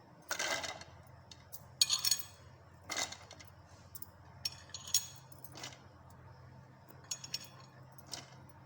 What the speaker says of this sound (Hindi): इसमें हम लहसुन डालेंगे। सारा लहसुन इसमें ऐड कर देते हैं।